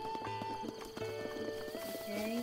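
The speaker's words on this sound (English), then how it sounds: "Yeah, they're over here. See? The horsey." Horse hooves clip-clop in a rapid, even rhythm in a Zelda video game, set against steady game music with tonal chimes, while people talk over it.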